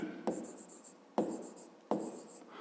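Pen writing on paper during a fifth-grade maths exercise: three short bursts of scratching strokes, each starting with a sharp tap and fading, close and quiet, with no talk.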